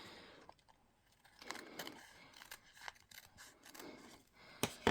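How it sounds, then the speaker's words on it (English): Scissors cutting open a sealed plastic bag of jigsaw puzzle pieces: faint, close snips and crinkling plastic come in short irregular bursts, with small rustles and a sharper click near the end. "we are going to need a pair of scissors here to get them up."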